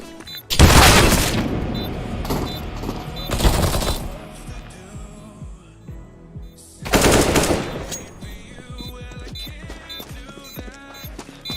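Gunfire and a grenade blast in Counter-Strike: Global Offensive, with loud bursts of rapid automatic fire and a booming explosion, followed by quieter scattered shots and clatter.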